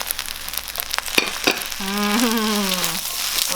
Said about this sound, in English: give this a quick mix because the tomato and the green onion they cook very fast